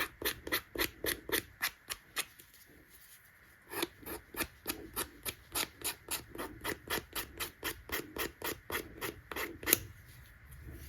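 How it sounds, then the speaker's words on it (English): A file rasps over the edges of a small craft piece, with quick rhythmic strokes in bursts, a short pause, then another long run of steady scraping, close and fairly quiet. "I think if we just file away the edges, I think that will make it look much better"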